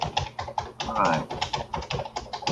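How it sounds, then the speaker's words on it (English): Rapid clicking keystrokes on a computer keyboard, close and irregular, with a voice talking over much of it. "Sorry, I just made a typo while I was typing."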